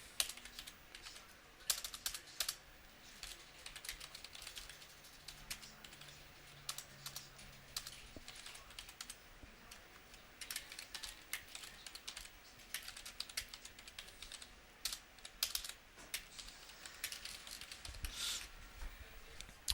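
Keys clatter on a computer keyboard in uneven bursts, close and quiet, with brief pauses between runs of rapid clicks.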